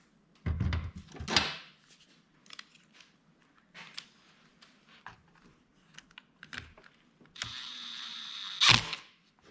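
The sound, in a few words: fitting throttle handle and screw on Stihl MS210 chainsaw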